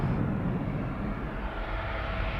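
An SAS CRJ 900 long-range jet departing Amsterdam Schiphol Airport, a steady loud broadband engine roar heard close up and continuous throughout.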